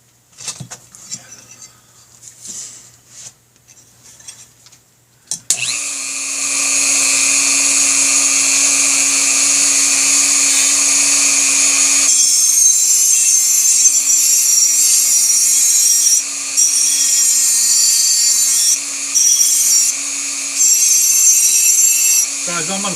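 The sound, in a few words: Dremel with Velcro sanding discs on BigDog oil tank cover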